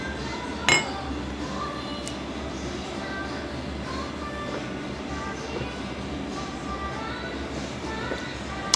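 Glasses clinking together in a toast with drinks, one sharp bright clink early on followed by faint table clatter and low background noise, close by, with no speech.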